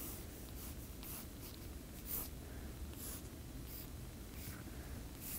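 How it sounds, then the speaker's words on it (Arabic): A brush strokes acrylic paint onto paper to lay in long hair, giving soft, steady scratchy rubbing with short repeated swipes, faint and close, alone without talk. "هنا سوف أرسم شعرا طويل"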